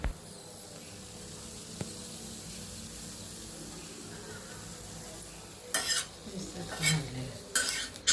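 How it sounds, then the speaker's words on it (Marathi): Mild green chillies roasting on a tava give a faint low sizzle, then louder scraping and stirring clatter of a utensil against the pan in bursts toward the end. "सर्वप्रथम आपल्याला कमी तिखट मिरच्या छान भाजून घ्यायच्या आहेत"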